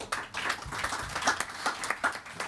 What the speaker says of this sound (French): merci Thierry, merci de l'applaudir